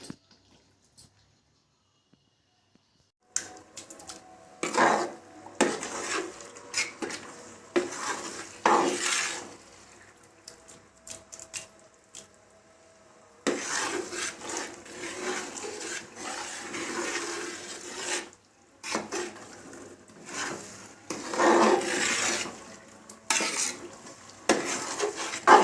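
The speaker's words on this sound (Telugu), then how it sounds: "పచ్చి వాసన అంతా పోయేదాకా ఇలా నూనెలో కలుపుతూ ఉండాలి." Tomato chutney (pachadi) stirred in a pan of hot oil, with a steady sizzle and repeated scraping, clattering stir strokes, broken by a quiet pause near the start and a short lull midway.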